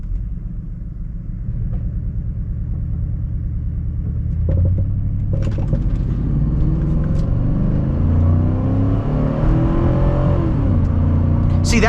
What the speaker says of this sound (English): that was foot to the floor in first gear and it barely revved past 52.